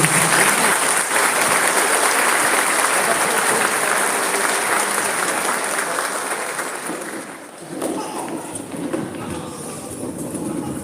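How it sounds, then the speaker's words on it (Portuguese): A church congregation applauds after the Gospel reading at a Sunday Mass, a dense, loud, steady wash of clapping that thins and softens near the end as a voice begins. "Vamos aplaudir a palavra de Deus"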